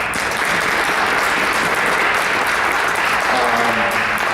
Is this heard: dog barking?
no